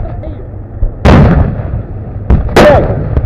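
Gunfire in combat, several loud close blasts and sharp shots in irregular bursts with rumbling echo between them, heavy and booming.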